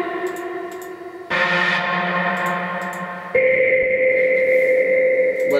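A sustained synthesizer tone drenched in heavy reverb and echo, shifting to a brighter, louder chord partway through and ringing on without pause.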